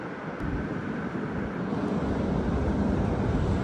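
An airplane passes overhead at sunset in Naha, Japan, a broad steady roar that grows slightly louder, mixed with wind rumble against the microphone.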